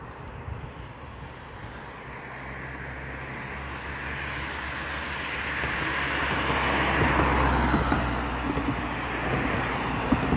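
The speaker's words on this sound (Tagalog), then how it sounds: "Busy ang mga sasakyan guys." Steady wash of busy road traffic with passing vehicles heard from a walk near a park and dam, rising gradually into a louder, nearer swell of engine and tyre noise.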